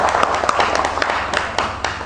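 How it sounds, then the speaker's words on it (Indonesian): A small audience at a public speaking training session in a village claps in a brisk, fairly even rhythm of distinct, moderately loud hand claps for about two seconds. "Kita berikan tepuk tangan dong"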